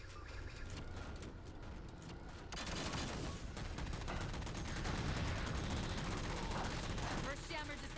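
In the video game Halo MCC, rapid automatic gunfire rattles continuously as jammers are shot down, a dense, loud barrage with a few heavier bursts and a voice talking over it.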